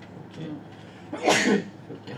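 A single sneeze in an office, a brief burst standing out sharply between quiet stretches, with a short spoken word just before it.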